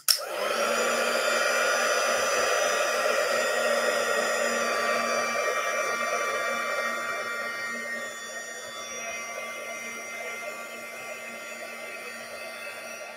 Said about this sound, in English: I'm gonna hit it with a heat gun just for a second so I don't spoil everything with my hand.